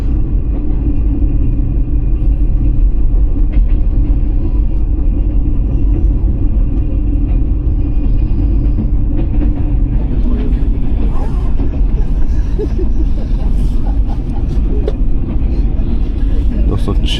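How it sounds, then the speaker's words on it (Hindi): The Pak Business Express train on its Lahore to Karachi run passing Kot Lalu railway station, heard from on board as a loud, steady low rumble of rolling wheels and carriage noise, with occasional clatter throughout. "ट्रेन पास हो रही है कोट लालू रेलवे स्टेशन से"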